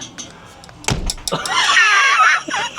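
A camper van door slams shut with a sharp, loud bang, preceded by a few light knocks and followed by a ringing, resonant tail.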